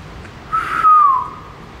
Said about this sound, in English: I'm going to whistle into this staircase.